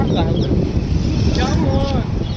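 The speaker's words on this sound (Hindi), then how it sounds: "और देखो यहाँ पे ना पूरी हवा चल रही एकदम।" Strong wind near Howrah Bridge buffets the microphone in a loud, continuous rush, while a voice talks briefly underneath.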